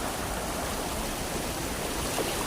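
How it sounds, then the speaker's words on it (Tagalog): A small stream runs over slippery rocks, a steady, even wash of rushing water heard close and alone with no voices. "isang sapa naman ito mga kababayan"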